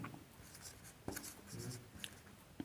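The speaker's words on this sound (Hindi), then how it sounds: "थोड़ा मार्कर चेंज कर लेते हैं ताकि आपको अच्छे से दिखाई दे। तो लिखेंगे मेंडलीव ने आवर्त सारणी में" A marker writes on a board during a chemistry lesson, with short squeaky strokes and taps coming in irregular bursts, close and faint, with no speech over them.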